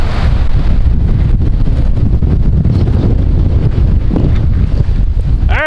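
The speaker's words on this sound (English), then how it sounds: "I'm sure this wind is crazy. We're getting like 40 mile per hour winds." Strong wind of about 40 mph buffeting a microphone outdoors on a goat farm, a loud, continuous low rumbling roar that stays constant throughout, with no talking.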